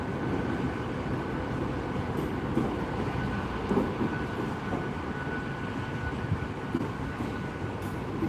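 A train pulls quietly away from Gloucester station, a steady rumbling rail noise with a faint high whine, continuous and fairly close, with no talk over it.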